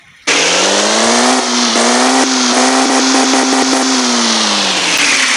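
A Tofaş Şahin car engine in a truck simulator video game revs loudly and continuously, its exhaust note rising and falling with a few quick blips, alone without talk.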